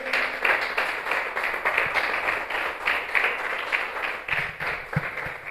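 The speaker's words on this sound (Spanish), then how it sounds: "¿Puede dar un aplauso también a eso?" A church congregation breaks into sustained applause at a Spanish-language sermon, a dense steady wash of many hands clapping that carries evenly through the whole stretch, with a few sharper individual claps near the end.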